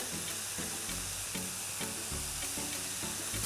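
Garlic and oregano frying in a pan with mushrooms, a dense, continuous sizzle with rhythmic stirring pulses, close and steady.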